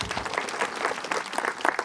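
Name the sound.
audience applauding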